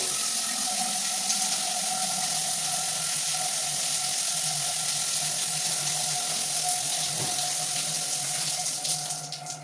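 Water pours steadily from a conventional shower at normal flow in an apartment bathroom, a dense continuous hiss with a faint underlying hum, close and unbroken throughout, with no voices.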